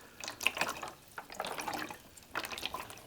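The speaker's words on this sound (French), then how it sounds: "aller au gré de l'eau, au son de ma pagaie" A canoe paddle dipping and pulling through calm water, giving three gentle swishing, splashing strokes with soft drips between them, close and fairly quiet, with no talking.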